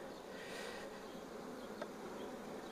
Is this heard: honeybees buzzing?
yes